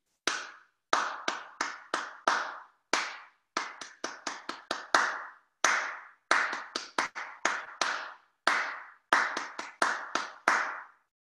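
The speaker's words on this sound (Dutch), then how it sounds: "We gaan dit nu gewoon met z'n allen klappen." A group's sharp hand claps ring out in a steady repeating rhythmic pattern, crisp and close, with brief pauses between groups and no voices.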